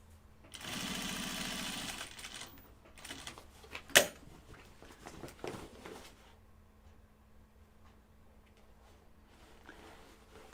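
Home sewing machine stitching a large pocket bucket bag, one loud burst of rapid stitching up front followed by shorter intermittent runs, a sharp click, and quieter handling noise fading out.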